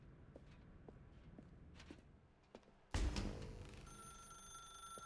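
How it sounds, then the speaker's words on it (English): A telephone rings in the game The Stanley Parable Ultra Deluxe, a sudden loud electronic ring bursting in after a stretch of quiet footsteps in a dark room. "Now pick up the phone."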